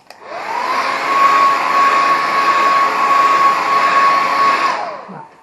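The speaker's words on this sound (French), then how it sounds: "je passe un tout petit coup de sèche-cheveux juste pour vérifier" A hair dryer blown briefly over a watercolour painting: it switches on with a rising whine, holds a steady loud airy roar with a thin motor tone for several seconds, then spins down.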